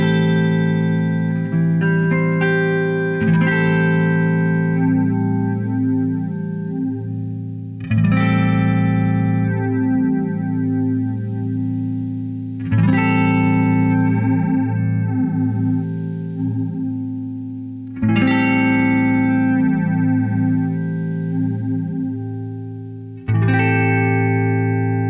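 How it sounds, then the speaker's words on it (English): An electric guitar through a Big Box Deluxe Electric Mistress flanger pedal, its delay time swept manually up and down, giving shifting, sweeping tonal coloration as strummed chords ring out in several long phrases. "letting us sweep the delay time up and down manually using the range knob"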